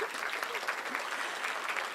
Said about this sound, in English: you can clap after I say there